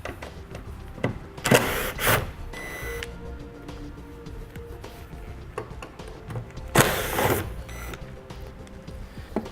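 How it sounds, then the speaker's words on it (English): Screwdriver work removing two Phillips head screws holding a taillight on a 2016 Hyundai Santa Fe, heard as close, brief bursts of ratcheting and scraping with short pauses between them, with no talking. "Our taillights are held in by 2 Phillips head screws."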